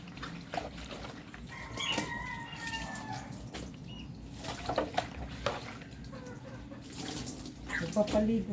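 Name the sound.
water poured while bathing chickens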